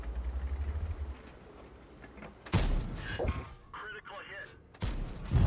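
In World of Tanks, a Bat.-Châtillon Bourrasque's main gun fires on the Airfield map, two heavy booming blasts a couple of seconds apart amid engine rumble, with voices talking in between.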